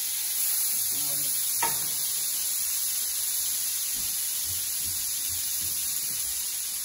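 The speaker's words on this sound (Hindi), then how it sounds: "दो टेबल स्पून में इसमें बटर डाल देंगे" Butter sizzles in a hot frying pan with a faint, even hiss over a constant electrical hum, while a voice speaks briefly.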